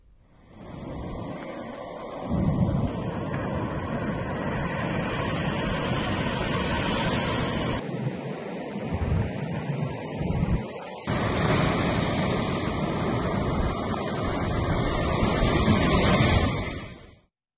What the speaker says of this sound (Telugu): బీచ్లో అలలు ఎగిసిపడుతున్నాయి